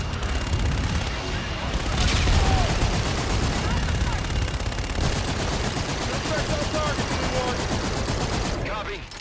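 An aircraft gun run in the Call of Duty: Infinite Warfare game pours out dense, continuous rapid-fire gunfire with heavy booming impacts, loud and sustained across the whole stretch, with brief radio voices underneath.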